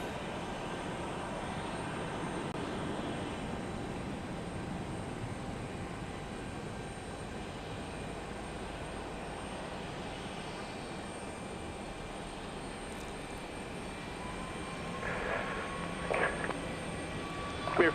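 An airliner arriving at Houston Intercontinental (IAH) airport drones steadily in a broad, continuous engine roar, with faint radio chatter surfacing briefly near the end.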